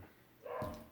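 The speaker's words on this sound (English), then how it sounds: "Sorry for the barking." A single short dog bark, somewhat muffled and not very loud, after a moment of quiet.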